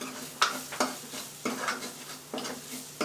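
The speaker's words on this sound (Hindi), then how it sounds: "और अब इसको हम अच्छे से करेंगे मिक्स, कपड़ा पाए अच्छे से इसको मिक्स करेंगे।" Spices and pomegranate seeds being stirred in a pan while cooking chole, giving four evenly spaced scraping strokes over a faint sizzle, close and moderately loud with no talking.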